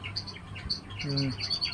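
Pet birds in an open rooftop enclosure chirp and tweet in short, scattered bursts, fairly soft, with a brief lower call partway through.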